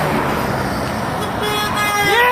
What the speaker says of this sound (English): 2 honks, man! 2 honks!